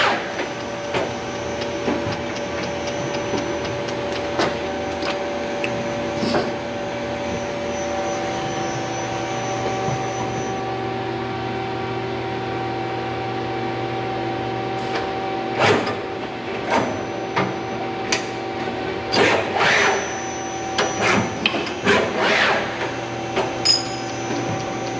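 Takamaz XT-6 machining unit loads and unloads parts in quick succession, a steady mechanical hum and whine with sharp clanks and knocks bunching toward the end of the cycle.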